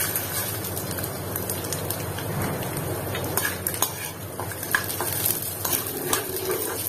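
Garlic frying and sizzling in a pan while a spoon stirs it, with a continuous hiss and scattered clinks and scrapes of metal against the pan, close and moderately loud.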